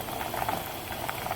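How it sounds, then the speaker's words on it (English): Water at a rolling boil in a pot on the stove for wonton soup gives off a steady, soft bubbling and hissing, fairly faint and uninterrupted. "So now my water has come to a boil."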